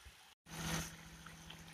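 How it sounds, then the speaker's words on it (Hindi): Vegetable stock poured into a pav bhaji pan, a short liquid splash and trickle after a brief gap, steady and close, fading into a low sizzle-like hiss. "अब मैं इसमें सारा स्टॉक डाल दूंगी।"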